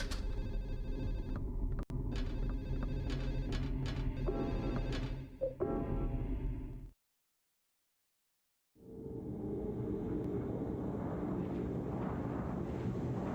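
Telephone ringing inside the video game Silent Hill 4: The Room, a loud, close electronic bell trilling in repeated bursts, then a short silence before a low ambient drone with scattered tones takes over.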